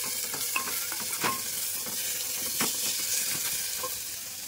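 Food frying in a pan with a little turmeric, salt and water, a continuous moderate sizzle broken by repeated scraping stir strokes and occasional clinks, close by and with no speech.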